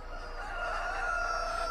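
A rooster in the Farming Simulator 22 (Landwirtschafts-Simulator 22) game gives a single sustained cock-a-doodle-doo, a clear moderately loud crow that rises and holds over a quiet ambient farm backdrop.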